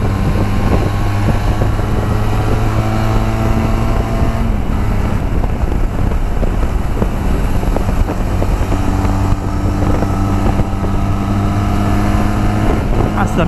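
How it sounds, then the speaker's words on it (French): A Benelli TRK 502 motorcycle on the move gives a constant, close engine drone with a slight pitch shift midway, wrapped in heavy rushing wind noise. "Mais sinon, c'est une moto super fun."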